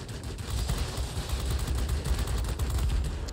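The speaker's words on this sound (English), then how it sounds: "God, these guns just delete things" Machine guns of a P-38L fighter aircraft in a flight game, firing as a dense, continuous rattling burst that is loud and close, with a low rumble underneath and no break for the full few seconds.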